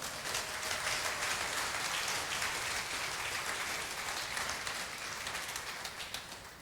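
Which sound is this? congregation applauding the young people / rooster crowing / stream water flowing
congregation applauding the young people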